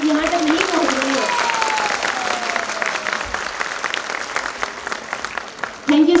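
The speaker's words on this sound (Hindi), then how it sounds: "Please give them a huge round of applause." School annual day audience giving students a big round of applause, dense continuous clapping that tapers off as a voice speaks over the start and end.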